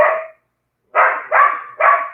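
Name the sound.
dogs barking at something on the roof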